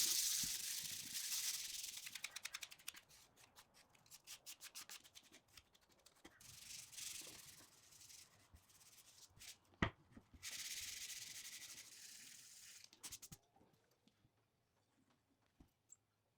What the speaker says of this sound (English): Before I glue that on, I'll sand the mould, then fill out any voids.